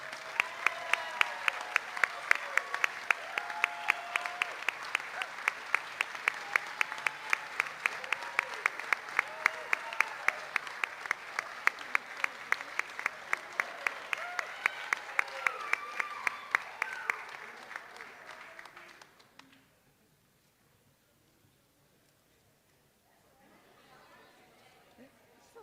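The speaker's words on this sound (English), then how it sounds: "so give them a round of applause" Audience at a college athletics recognition ceremony breaks into sustained applause with dense rhythmic clapping and cheers, fading out near the end before quiet room noise returns.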